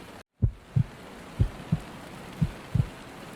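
Steady broadband rain hiss on a stormy night drive, with a brief dropout near the start and a handful of low, soft thumps spaced irregularly beneath the continuous wash.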